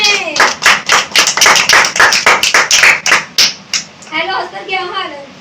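Loud, rhythmic clapping rings out from a children's ministry audience at a Bible competition, with sharp, evenly spaced claps in a steady beat that stop abruptly, followed by a voice speaking.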